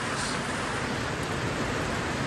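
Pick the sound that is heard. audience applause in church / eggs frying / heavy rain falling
heavy rain falling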